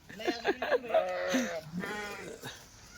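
Sheep bleat repeatedly at a livestock market where Kathiawadi goats are also sold, several close, wavering calls in quick succession, with background voices in between.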